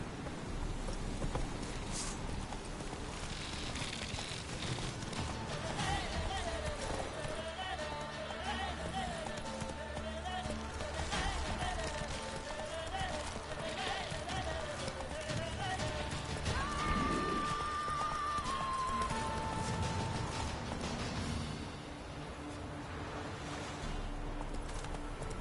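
Roach the horse gallops in the video game The Witcher 3, a steady drumming of hooves running on under game music, with speech present throughout.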